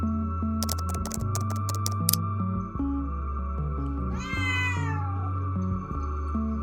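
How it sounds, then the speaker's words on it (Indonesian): A cat gives one drawn-out, rising and falling meow midway through, heard over steady background music with a beat and some brief clicking sounds near the start. "Kamu perhatikan nggak kucing-kucing di video itu? Selain meong,"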